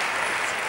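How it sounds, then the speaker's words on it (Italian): Brief, dense burst of audience applause at the David di Donatello film awards ceremony, loud and even with no voices above it. "Ancora un grande applauso a Ernesto Maillet per il film L'imbalsamatore."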